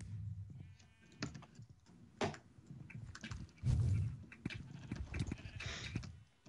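A sheep bleats in Minecraft during an arcade minigame, short game bleats mixed with rapid keyboard typing and clicking, fairly close and moderately loud.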